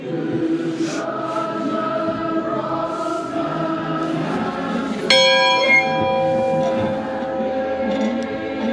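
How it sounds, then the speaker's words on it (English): An old bell rung by pulling a rope at a heritage museum peals once with a bright ringing strike that lingers over a steady background murmur of other bells and ambient noise. "That's okay, you're allowed to ring the bell."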